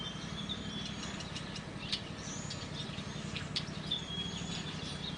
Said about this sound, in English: And the birds.